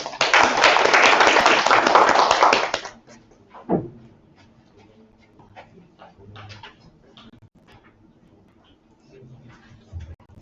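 Audience applause welcoming a speaker at an academic conference session, a dense burst of clapping for about three seconds that stops abruptly, followed by quiet room noise, a few taps and shuffles.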